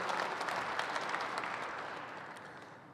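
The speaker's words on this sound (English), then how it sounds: "Let's give all of those folks a big round of applause." Audience at a dirt late model racing series banquet applauding, a dense wash of clapping heard at moderate distance and slowly fading over a few seconds.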